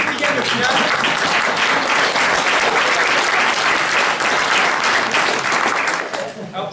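A French comedy audience applauds at a stand-up show, a loud sustained wave of clapping that fades near the end.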